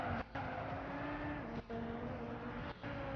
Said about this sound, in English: Let's drift on a road course.